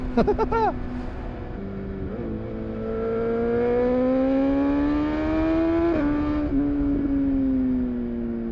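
A BMW S1000XR motorcycle with a Black Widow decat exhaust, heard close as the engine revs sharply, then pulls through long rising gear runs with a shift midway, loud and alone.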